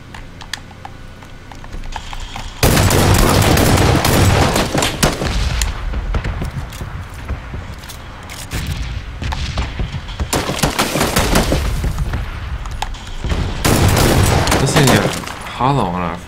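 SCAR rifle gunfire in PUBG, dense rapid bursts of shots in loud clusters separated by brief lulls, close and harsh, mixed with in-game noise.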